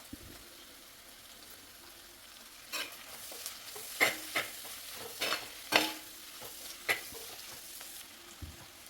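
Curry leaves dropped into hot oil with tomato for a crab roast sizzle and spit in the pan, a steady frying hiss broken by several sharp crackling pops, close, with no talking.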